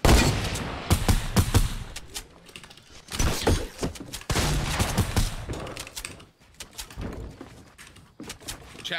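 Repeated shotgun blasts in a video game, several loud bursts coming in rapid clusters with short gaps, alone without any talking.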